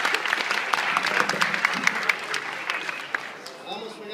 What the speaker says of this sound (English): So give them a big round of applause and we'll get started.